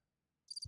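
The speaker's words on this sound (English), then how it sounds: "Crickets." Short burst of cricket chirping used as a sound effect, a quick high trill of two or three pulses arriving after a moment of near silence, with a low thump at the very end; no voices.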